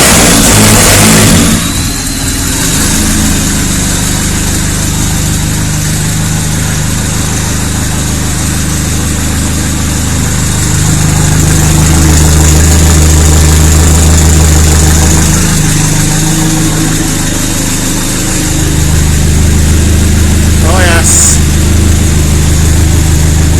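A rear-wheel-drive turbo Nissan Micra engine catches on its first start and runs loud and close, rising through several revs and a longer sustained rev before settling back to a rough idle.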